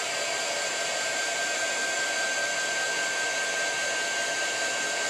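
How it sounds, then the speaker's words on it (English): Embossing heat gun running steadily to dry craft work, a continuous close, loud hot-air whir and hiss with a faint high whine, unbroken from start to finish. "plug in my heat gun so that we can speed up this process."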